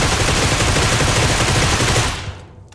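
Rapid automatic gunfire from a vampire-mode video game rattles loudly and continuously, then cuts off and fades after about two seconds.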